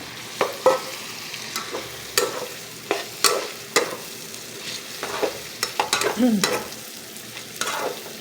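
Pancit bihon noodles with chicken and sausage being stirred in a pan, with repeated scraping clatters of the utensil at an irregular rhythm over a soft continuous sizzle, close and moderately loud, with no talking.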